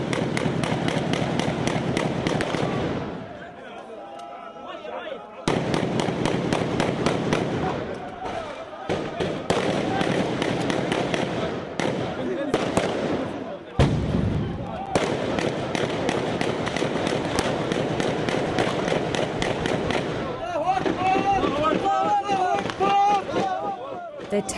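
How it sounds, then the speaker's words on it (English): Rapid small-arms gunfire inside a house during street fighting in Misratah, Libya, with fighters firing one after another: loud, dense bursts of cracking shots fill most of the stretch, broken by brief lulls, with voices mixed in. "taking it in turns, they fire one by one inside the house"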